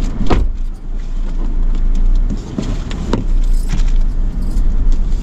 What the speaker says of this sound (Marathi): ही AC गाडी आहे बघा, आणि न्यू गाडी आहे